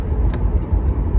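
A 1989 Chevrolet Camaro IROC with a 5.7 engine driving, its loud, steady low engine rumble and road noise filling the cabin, with no speech.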